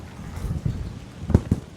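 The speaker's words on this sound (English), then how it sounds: "It's raining." Coastal rain and gusting wind on a blustery afternoon at high tide, a steady low rumble of wind buffeting the microphone with a couple of sharper gusts near the end, no voices.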